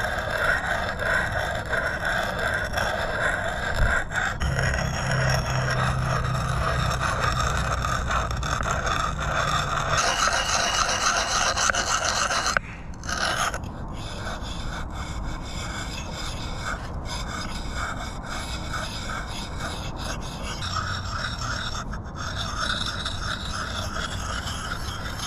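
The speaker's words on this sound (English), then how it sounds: "I'm done sharpening. I used the stone and I got this thing razor sharp." A sharpening stone rubs steadily along the edge of a reshaped axe head, a continuous close rasping scrape that runs without a break, its tone shifting partway through.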